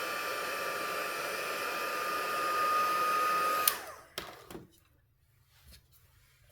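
A hair dryer blows steadily and loud to quick-dry ink on a stamped card, a constant whooshing hum that cuts off abruptly partway through, leaving a few faint handling clicks and knocks afterward.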